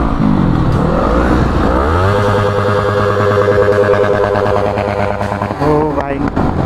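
Super bikes such as a Yamaha R3, Honda CBR250RR and Yamaha R15 V4 ridden at night in New Raipur, engines revving and rising in pitch through gear changes, loud and close, with bikes droning throughout.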